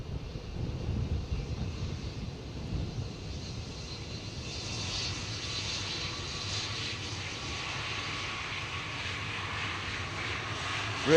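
A KLM Airbus A330 arriving on runway 18R, the Polderbaan, at Amsterdam Schiphol: a steady, moderately distant jet engine roar that swells and brightens midway, with wind buffeting the microphone throughout.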